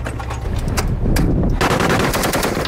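An M240 machine gun fired aboard a Coast Guard boat during an annual weapons qualification about eight miles offshore: loud, close, rapid bursts of automatic fire, with barely a pause between the rounds.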